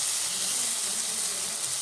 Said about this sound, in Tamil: வெங்காயம் இது எல்லாத்தையுமே அதை கூட சேர்த்துக்கொள்வோம். சேர்த்தாச்சு இதை வதக்கிக்கொள்ளுவோம்.